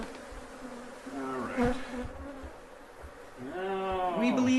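Killer bees swarm in a dense, continuous buzz close by, the droning hum persisting throughout with a voice speaking briefly over it.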